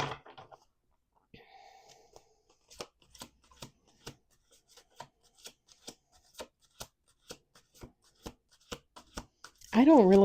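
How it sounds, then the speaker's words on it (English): Crisp riffling snaps of playing cards being shuffled, a string of quick separate flicks, ending with a person beginning to speak. "We're going to do 2 more shuffles."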